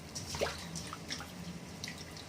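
Sardine fish curry boils in a pot, throwing up scattered, faint plopping bubbles that pop at an irregular pace over a quiet background.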